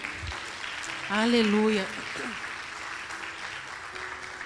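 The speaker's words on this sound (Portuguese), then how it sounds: "Pode aplaudir ao Senhor." A congregation applauds during a church service, a steady wash of clapping that runs through the whole stretch while a voice calls out briefly over it.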